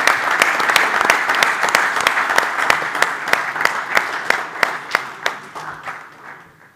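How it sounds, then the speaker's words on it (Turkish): Applause at a youth basketball league final-four talk event as a speaker leaves the stage: a roomful of steady clapping, loud and close, that thins out and fades toward the end. "Alkışlarla gönderiyoruz."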